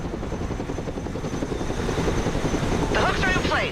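Chinook tandem-rotor helicopter in the video game Broken Arrow, a continuous rotor thrum and engine drone throughout, with radio-style voices talking over it.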